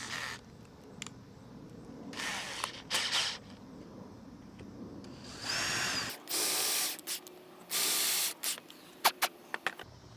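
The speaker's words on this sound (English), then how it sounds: "What I'm going to do in the bottom is I'm going to countersink them" A countersink bit cuts into drilled holes on the underside of a wooden craft piece in a workshop, with several short loud whirring bursts separated by pauses.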